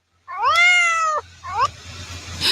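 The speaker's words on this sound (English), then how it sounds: "Cat is purring." A cat gives two clear, close meows, a long rising-falling one and then a shorter one, over a low steady rumble with no purr plainly evident.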